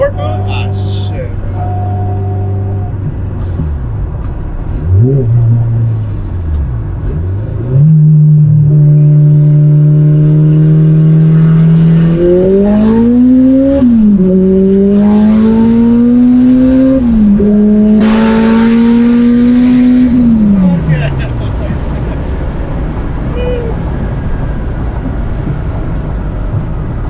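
A turbocharged Honda Civic engine revs hard and climbs through several gears, each rise dropping back before pulling up again, loud and close with wind noise.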